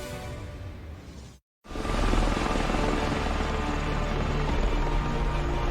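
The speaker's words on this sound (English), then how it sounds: "The V-22 Osprey is one of the most remarkable machines on the planet." Loud, steady rotor and engine roar of a V-22 Osprey military tiltrotor aircraft, with a brief gap of silence early on before the continuous droning resumes.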